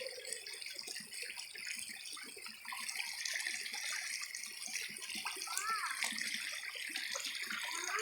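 A creek flows with a steady, close rush and gurgle of water, a constant wash with small splashes throughout, and faint talk beneath it.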